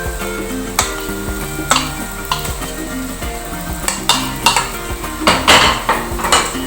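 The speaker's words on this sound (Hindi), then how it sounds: "हमने इसको अच्छा सा भूनना है।" Urad lentils being fried in oil in a pan: a utensil clinks and scrapes against metal in irregular strokes, close and clear, over a soft sizzle, with no voices.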